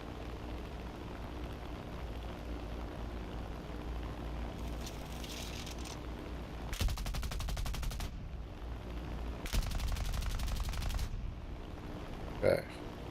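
War Thunder gunfire comes as two long, rapid automatic bursts over a low, steady engine drone, each lasting about a second or more, with a single sharper crack near the end.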